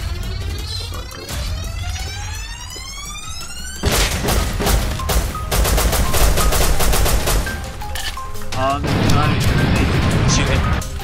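Gunfire in the survival game Rust, with bursts of rapid shots and single cracks over a steady rumbling game soundscape, loud and close, continuing throughout.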